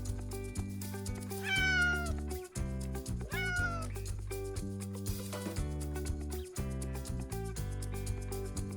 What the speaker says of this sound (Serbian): To je mačka.